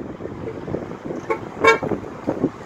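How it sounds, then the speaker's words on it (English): A car horn gives a couple of brief toots, one sharper blast standing out over a steady rumble of street traffic nearby. "he has to honk where he doesn't need to"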